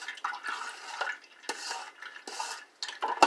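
A utensil scraping pulp aside inside a juicer, a run of short close scrapes and clatters in uneven bursts with small knocks, no talk.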